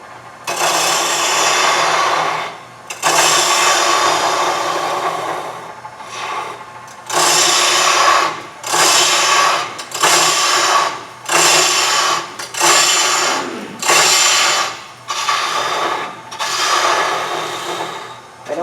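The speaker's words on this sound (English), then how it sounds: "So I just move the gouge edge a little bit more toward me, make a thin cut." A gouge makes thin cuts into wood spinning on a lathe while a natural-edge goblet is turned, giving repeated scraping, whooshing passes a few seconds long with short pauses between them, close and fairly loud.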